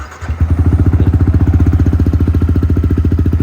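A 2019 Yamaha YZF-R15 sport motorcycle with 6,900 km on it idles loudly and close by after starting, its single-cylinder exhaust thumping in a steady, rapid, even pulse with no talk.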